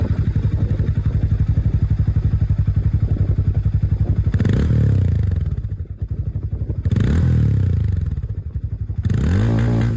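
A Hero Maverick 440 motorcycle engine idles with a steady, throbbing exhaust rumble, briefly revved twice before settling back, close and loud with no talking.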